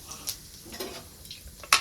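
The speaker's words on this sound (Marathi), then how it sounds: "जिरी मोहरी चांगली तडतडली" Cumin and mustard seeds crackle in hot oil for tempering, a few faint, scattered pops and ticks over a quiet background, the last one sharper and louder.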